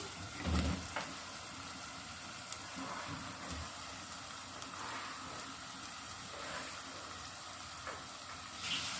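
Chicken drops into a pan of sautéed garlic and ginger for palak chicken, giving a faint, low sizzle with a few soft clatters of handling.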